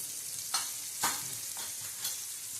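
A dal tempering sizzles in a pan as chutney powder is added, a faint steady crackle with several short bursts from stirring, spaced about half a second apart.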